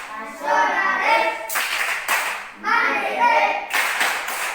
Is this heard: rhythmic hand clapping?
yes